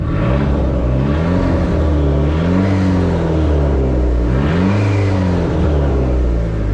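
A Dodge SRT-4 engine revs up and down repeatedly in first gear during a transmission test, loud and close. The pitch rises and falls in several surging sweeps.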